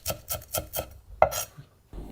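A knife slices through rolled ingredients into strips on a cutting board, with four even rhythmic cuts followed by a sharper final chop, close and clear, with no talking.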